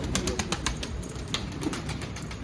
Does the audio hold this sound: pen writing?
no